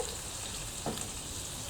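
Oil and ghee heating in a pan before whole spices go in for a chicken Rogan Josh, giving a faint, steady low sizzle with one small crackle partway through.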